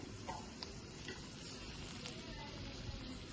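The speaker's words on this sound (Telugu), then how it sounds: "ఇప్పుడు ఆయిల్ వేడెక్కింది ఎండుమిర్చి వేసేసుకుందాం" Dried red chilies dropped into hot oil in a pan, giving a soft, steady sizzle and crackle, faint and continuous with a few small pops.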